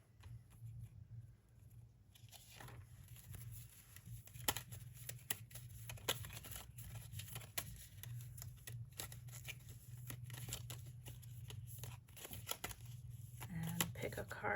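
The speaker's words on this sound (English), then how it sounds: "We will shuffle." A deck of coupon cards being shuffled by hand, close and faint, with continuous soft riffling and flicking and a low hum beneath, ending in a few crisper snaps of card against card.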